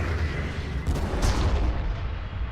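Gunfire and artillery booms against enemy units in the Armageddon video game, a continuous low rumbling barrage with a couple of brighter cracks, moderately loud and without talk.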